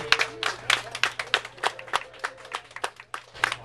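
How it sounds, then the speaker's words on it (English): A crowd claps steadily for a few seconds, a scattering of hand claps at moderate volume with a low hum underneath. "give yourselves a round of applause for showing up today"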